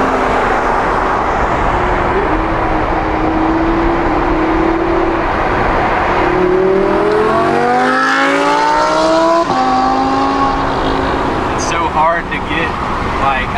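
A supercharged Audi R8 engine revs loudly up close, rising and falling in pitch through several climbs, with people talking over the engine noise.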